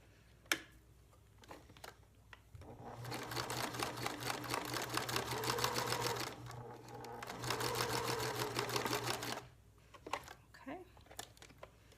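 A sewing machine stitching fabric while making scented hangers, a steady close whirring run of about seven seconds with a brief pause midway, framed by a few clicks and soft handling noises before and after.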